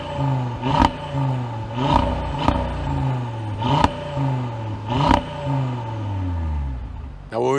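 A 2026 Audi RS3 with sport exhaust is revved repeatedly, giving five sharp blips that each rise and fall away. A steady idle burble carries on between the blips.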